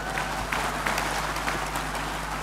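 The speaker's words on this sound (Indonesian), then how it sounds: "Mana tepuk tangannya?" A crowd at an Indonesian economic policy event claps briefly in a soft, diffuse wash of applause, heard over a steady hum in a large hall.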